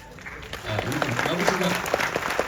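An audience at a film event claps together, a steady patter of applause that builds and holds throughout, with voices mixed in under the clapping.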